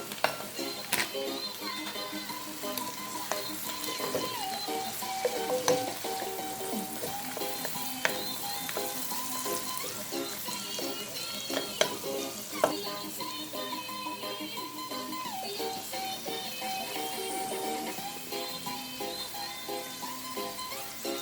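Vegetables for seasoned rice fry in a pan with a steady, continuous sizzle as they are stirred, with scattered soft scrapes and clinks of the utensil throughout.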